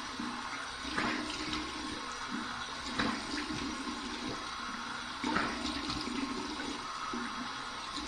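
Cold water runs steadily from a bathroom tap during a face rinse after shaving, a continuous close splashing flow with a few louder gushes where hands cup and splash the water.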